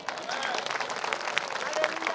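Church congregation at a Nepali prayer service claps together in a dense, lively patter, with the sound staying fairly close and steady; voices can be heard mixed in among the applause.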